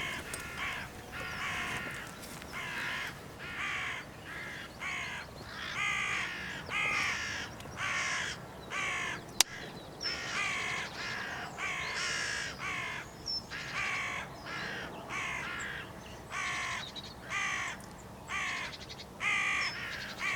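Hooded crows caw over and over in quick, harsh bursts, fairly distant, with a steady background hiss and no talking.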